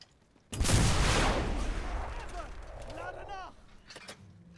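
Anti-tank rifle fire hits a T-34 1941 tank in a video game, with one loud, sharp blast followed by a long rumbling decay, metallic creaks and faint clanks.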